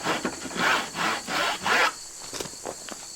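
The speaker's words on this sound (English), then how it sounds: "we're just going to come in here with our dovetail saw again and cut down in here just a little ways" A dovetail saw cutting down into wood on a take-down bucksaw project, making five or six rhythmic rasping strokes close up before the work falls quiet.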